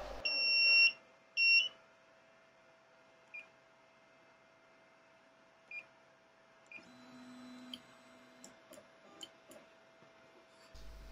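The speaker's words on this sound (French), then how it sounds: "Et la machine bip pour indiquer qu'elle a terminé le travail." A Flying Bear LaserMan laser engraver gives two short high-pitched electronic beeps near the start on finishing a job, followed by quiet mechanical ticks, faint clicks and a brief low hum.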